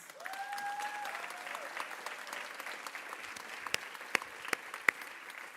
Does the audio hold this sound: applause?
yes